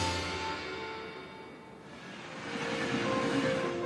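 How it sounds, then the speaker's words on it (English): A train travelling through Northumberland, England, heard as a steady, fairly loud rumbling roar with a continuous hum that dips briefly and then swells again, with no voices. "My journey starts by train"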